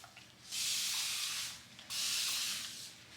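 Two long bursts of spray mist from a spray bottle dampening hair, close and steady, each hissing for over a second with a short pause between.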